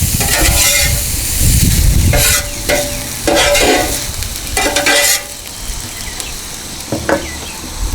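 Eggs frying on a Blackstone flat-top griddle during a breakfast taco cook, a steady close sizzle with scraping and stirring bursts from a spatula on the hot surface, no talking.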